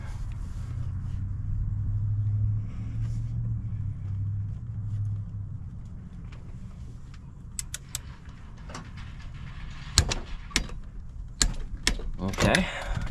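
A torque wrench tightens bolts on a 1993 Subaru Impreza during an AVCS delete. A low hum comes first, then sharp metallic clicks in quick bursts near the end.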